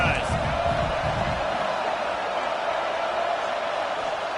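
Constant stadium crowd roar in a college football video game, a broad steady wash of sound that stays loud throughout, with brief commentary at the start.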